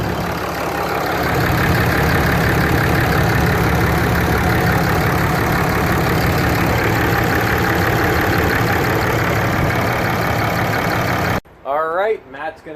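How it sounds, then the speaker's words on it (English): Loud, steady idling of a 2012 Ram 2500HD 6.7L Cummins diesel engine with a constant low rumble for several seconds, then it cuts off and a person briefly talks. "I want you to hear exactly what the engine sounds like."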